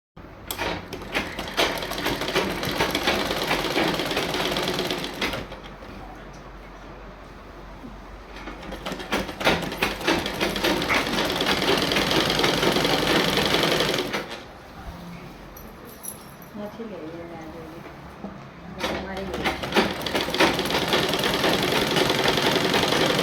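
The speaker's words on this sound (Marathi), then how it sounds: "या फिटिंगच्या लाईनवरूनच आपल्याला टिप मारायची" A sewing machine stitches a dress along the fitting line in rapid continuous runs, close and loud, stopping twice for short pauses before starting again.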